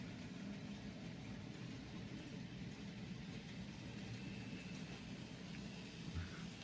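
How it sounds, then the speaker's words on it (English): A steady, low mechanical rumble runs throughout at a constant level as an N scale model train rolls along hand-laid code 40 track, with no voices. "And the 80s train found its way back around."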